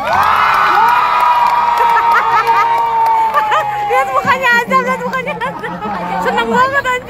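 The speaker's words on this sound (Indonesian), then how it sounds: "Oke, mana tepuk tangannya untuk Azam?" A crowd at a live concert in Jakarta's Taman Literasi cheers and shouts loudly for a young audience member, high excited voices and whoops rising together in a sustained roar.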